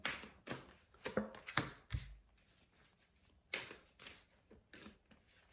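Tarot cards are laid down over a previous spread: a run of soft, close card slaps and shuffling flicks at an uneven rhythm, with quiet gaps between.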